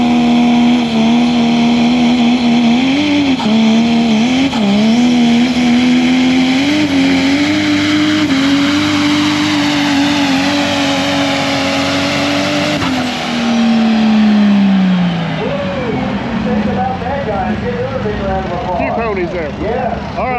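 Open four-wheel-drive diesel trucks race on a track, a loud continuous engine roar with rising and falling revs, the pitch climbing then dropping sharply near the end; a voice talks over it.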